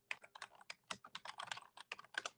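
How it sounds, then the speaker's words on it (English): Someone typing quickly on a computer keyboard, a dense run of light, close clicking keystrokes in uneven bursts with no talk over it. "Here's someone typing. Who's typing?"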